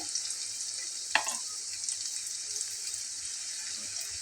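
Onion frying lightly in a pan for a bitter gourd dish gives a steady, even sizzle that runs throughout, broken by one sharp clink or stirring knock early on.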